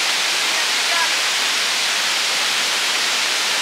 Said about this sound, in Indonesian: air terjun kedua adalah air terjun yang paling awal kita temui